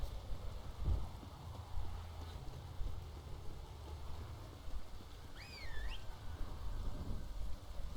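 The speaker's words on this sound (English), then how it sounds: "Rain again." Steady rainfall in The Witcher 3, a soft constant hiss with low rumbling underneath and a short whistling bird-like call midway, fairly quiet and without speech.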